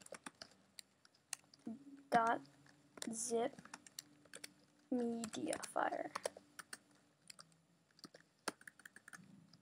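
Someone types on a Mac computer keyboard in quick, uneven bursts of clicking keys, close and fairly quiet, while a person talks over parts of it.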